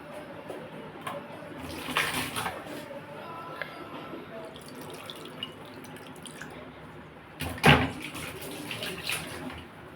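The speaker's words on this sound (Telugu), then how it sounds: "ఇది కూడా కొన్ని నీళ్ళు వేస్తాం" Water splashing and sloshing into a cooking pot of brinjal and tomato chutney, with soft kitchen clatter and a few spoken words in the background.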